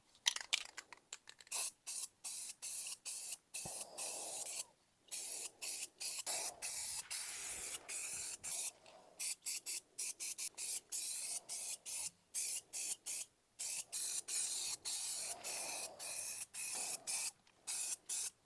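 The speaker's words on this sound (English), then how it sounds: "I'm just gonna spray right over it" An aerosol spray paint can hisses onto a VW 2.5L 07K engine in a long series of short bursts separated by brief pauses, close and fairly steady throughout.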